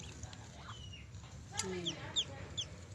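A baby duck's short high peeping calls sound over a low rumbling background with some faint voices, a few chirps spaced across a few seconds.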